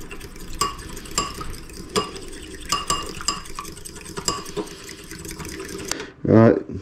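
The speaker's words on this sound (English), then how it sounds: "put an egg in a bowl, a little bit of milk, give that a stir up" An egg and a little milk are stirred in a bowl with a utensil, giving a run of quick, regular clinking taps against the side, ending in a louder knock near the close.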